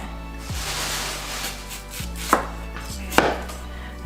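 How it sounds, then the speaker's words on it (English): A knife chops vegetables on a cutting board in a home kitchen during a cooking contest, with a few crisp, separated chops over a low steady background hum. "Now I'm chopping the other way so I don't chop my fingers."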